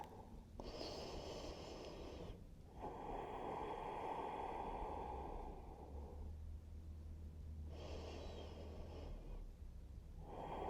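Deep, slow breaths during gentle floor yoga, long airy inhales and exhales in a steady cycle, close to the microphone over a constant low background hum.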